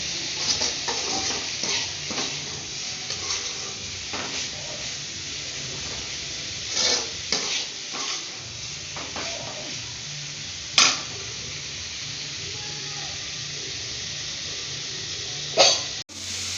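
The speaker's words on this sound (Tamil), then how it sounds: "பொடி உப்பு கொஞ்சம் போட்டு தாளிச்சிருக்கேன்" Salt and spices tempering in hot oil in a pan, a steady broad sizzle running throughout with occasional stirring scrapes and a few sharp clinks of a utensil against the pan.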